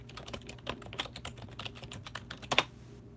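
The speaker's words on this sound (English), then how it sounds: "I'll just type it in before I go." Fingers typing on a computer keyboard at close range, a quick irregular run of clicking keystrokes with a sharper cluster of taps near the end and no talking.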